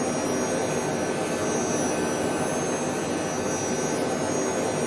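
Lockheed JetStar jet engines at takeoff power in Microsoft Flight Simulator, a steady, dense, loud roar with a faint high whine above it, unbroken and without talk.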